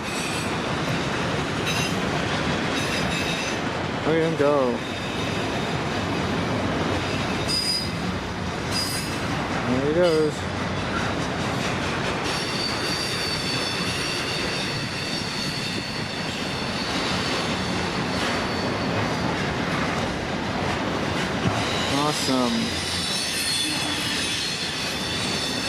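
Freight train number 106 pulls out of town heading east, its wheels squealing in repeated high rising bursts over a steady rolling rumble, close by, while people comment excitedly.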